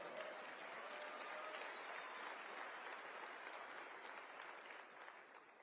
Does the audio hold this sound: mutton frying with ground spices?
no